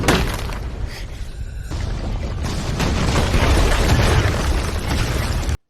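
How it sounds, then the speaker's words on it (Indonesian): Animated-series explosions fill a palace, loud bursts and shattering debris rolling into a sustained roaring blast that cuts off abruptly at the end. "istana Sayap Perak seluruhnya benar-benar dipenuhi dengan ledakan"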